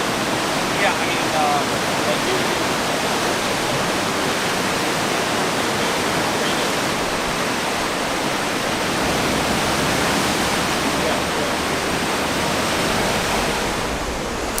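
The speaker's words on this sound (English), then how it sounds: "what you're looking at is just a small percentage of the water coming out of that dam" A massive torrent of water gushing out of the Three Gorges Dam in China makes a loud, steady roar that holds without a break from start to finish.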